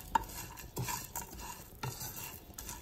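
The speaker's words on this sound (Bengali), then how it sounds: "পুরো প্রণালীটাকে আমি পাঁচ থেকে ছয় মিনিট টেলে নেব এবং নাড়তে থাকব যাতে পুড়ে না যায়" Homemade cereal mix dry-roasting in a pan, stirred continuously: quiet, scattered scraping strokes of a spoon against the pan, faint and close, with soft rustling of grains between strokes.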